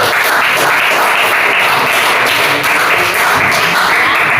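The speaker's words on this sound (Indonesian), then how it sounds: "Ya, tepuk tangan untuk Surjani." Students in a classroom applaud a classmate with dense, steady clapping that fills the whole stretch at a constant level.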